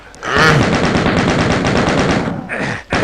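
Rapid machine-gun fire from enemies in Doom 2's Industrial Zone level, a loud, steady stream of evenly spaced shots that runs almost continuously and cuts off briefly near the end.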